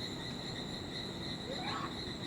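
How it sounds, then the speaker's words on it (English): Frogs and insects chorus at dusk beside a river deep in the Amazon rainforest, a continuous high pitched trilling with a brief rising call near the end, steady and moderately loud. "Here I am, deep in the Amazonia, a few feet from the river, surrounded by frogs."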